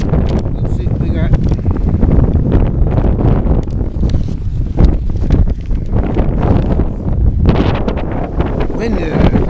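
Loud, gusty wind at Carnelian Bay, Lake Tahoe, buffets the microphone in continuous rumbling bursts while someone talks over it.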